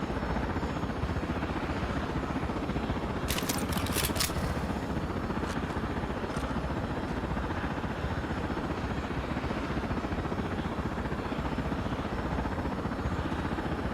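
Steady rotor-and-engine drone of an Osprey aircraft in the video game Project Silverfish, a dense continuous roar with brief metallic clicks early on, close and loud throughout.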